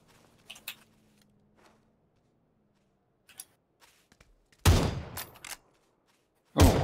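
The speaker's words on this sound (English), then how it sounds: "Oh, shotgun." A Winchester shotgun fires in the PC game PUBG: two loud, heavy blasts ring out after a stretch of faint clicks and footsteps.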